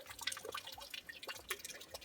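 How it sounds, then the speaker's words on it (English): Spring water spills from a pipe into a large tub on a hiking trail, a quiet, continuous splashing and trickling with small irregular drips. "here's where the water comes out of the spring"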